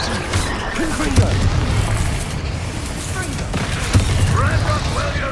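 Fiery Confringo blast spells going off in Hogwarts Legacy, a couple of dull booming bursts about a second and four seconds in, set in a busy, cluttered game soundscape with a voice calling out over it.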